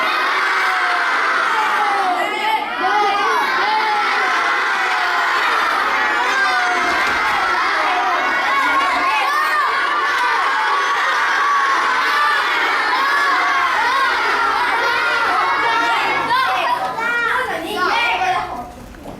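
A children's theatre audience at a school play of Cinderella shouts an answer together, a loud, sustained crowd of young voices with cheering and whoops that fades near the end.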